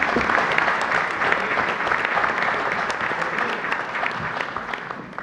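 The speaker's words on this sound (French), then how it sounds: "On va l'applaudir." Sustained applause fills a community council meeting room, a loud, even patter of many hands clapping together without pause from start to finish.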